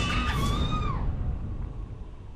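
A high, wavering scream rises and then fades after about a second, leaving a dim, noisy room with faint rumbling and nothing else.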